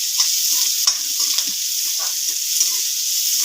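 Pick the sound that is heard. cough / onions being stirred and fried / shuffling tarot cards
onions being stirred and fried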